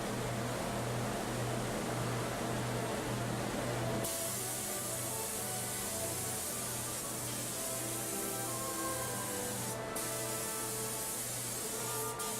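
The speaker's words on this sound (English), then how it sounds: "For more specialized applications, hand spraying can be used." A hand spray gun applies finish to leather with a steady, continuous hiss that shifts in tone partway through, under a constant mechanical hum.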